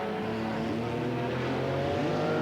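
Classic 1960s Formula race cars on their final lap of a 12-lap Formula Adelaide race, a continuous loud engine roar with rising revving tones, several cars blending together near the track.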